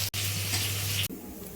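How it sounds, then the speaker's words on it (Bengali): Fish fries in a pan with a loud, steady hissing sizzle that breaks off sharply twice, then continues softer at the end. "আর এদিকে মাছ ভাজা হচ্ছে"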